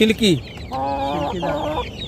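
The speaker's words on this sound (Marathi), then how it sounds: "नाही ह्या मोठा कोंबडा सिल्की आहे" Silkie chickens, including a large Silkie rooster, cluck nearby in a farmyard: a quick pair of sharp calls followed by two longer, drawn-out clucking phrases, loud and close.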